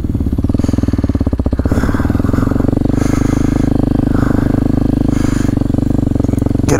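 A 2023 Kawasaki KLX 230SM motorcycle engine idles and runs steadily while warming up on a morning ride, a loud, close, continuous putter with slight rises in revs throughout.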